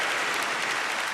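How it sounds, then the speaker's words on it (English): Brief burst of dense applause played as a sound effect on a doll-themed livestream, steady and even for about a second. "There's the clap."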